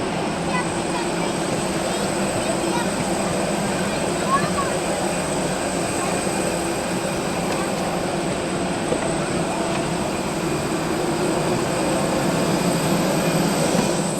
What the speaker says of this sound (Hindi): ये जहाज़ है जिसके ऊपर मैं जाने लगा हूँ।